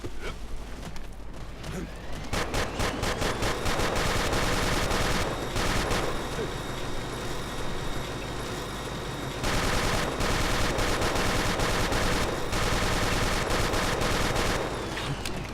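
Dense bursts of rapid gunfire in Ace of Spades rattle on and off over a busy, loud game soundscape, with brief lulls between volleys.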